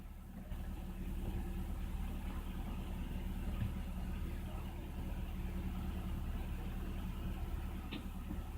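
A BMW E46 with a hunting idle runs nearby with a continuous low rumble and hum that holds fairly even for the whole stretch.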